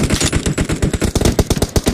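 Rapid automatic gunfire from a PUBG-style battle royale shooter game, dense bursts of close, loud shots firing continuously with no pause.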